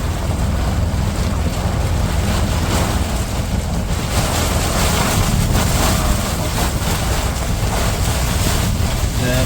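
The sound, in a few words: wind and rain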